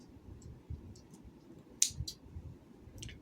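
A few sharp snips of dull scissors cutting yarn, one louder crisp cut in the middle followed by smaller clicks, against a low background rumble.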